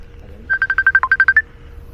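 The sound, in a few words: phone ringing with an incoming call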